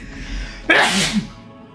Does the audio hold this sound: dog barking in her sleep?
no